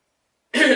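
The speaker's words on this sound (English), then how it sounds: "sorry, just more coughs" A single short, close throat-clearing cough that starts abruptly after silence and lasts under half a second.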